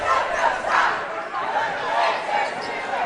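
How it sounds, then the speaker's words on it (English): The Lancer home crowd at a high school boys basketball sub-state game cheers and shouts in a loud, steady roar that rises and falls throughout, dense with overlapping voices. "Lancer crowd very into it."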